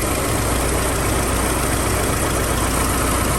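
The engine of a 1991 BMW E30 idles in a steady, loud, unbroken drone with even low rumble, heard alone with no voices.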